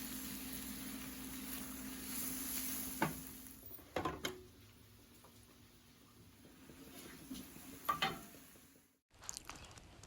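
Chicken frying with onions and spices in a pan, a faint continuous sizzle punctuated by a few clinks and scrapes of stirring, with a brief cut in sound near the end.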